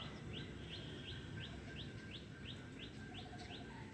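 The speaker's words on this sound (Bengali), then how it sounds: "কোকিলের কুহু কুহু ডাক দেখো শোনা যাচ্ছে" An Asian koel calls in spring, a regular series of rising whistled notes repeated about every half second, distant and faint over a steady background hiss, with a few softer chirps near the end.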